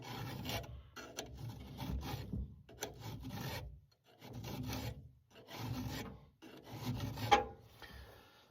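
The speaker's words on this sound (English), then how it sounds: "I got my old fashioned round file on a handle." Chainsaw chain sharpened by hand with an old-fashioned round file on a handle, giving five steady raspy filing strokes, each a few seconds of gritty scraping with brief pauses between, close and fairly quiet.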